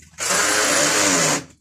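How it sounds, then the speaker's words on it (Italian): A power drill bores a hole into a wall for a wall anchor during a small electrical installation, one sustained loud high-pitched whirring burst of just over a second, starting and stopping abruptly. "Schiaccia, dritto, alza quel trapano."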